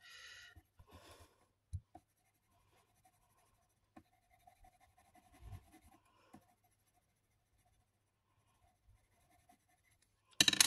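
Polychromos colored pencil blending on paper, soft intermittent scratchy strokes with quiet gaps between them, close and faint, ending in a short louder burst of rubbing.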